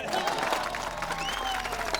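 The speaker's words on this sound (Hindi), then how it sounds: "ताली बजा रहे लोग।" A crowd of people applauding together, a dense, steady wash of clapping that holds evenly for two seconds, with faint tonal sounds in the background.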